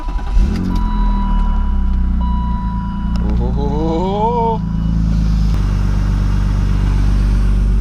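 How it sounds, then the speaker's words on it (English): A car engine turns over and settles into a steady, loud idle after start-up, checked for exhaust leaks, with a brief rising whine partway through and a person talking over it. "the first thing I'm going to do is start up the car"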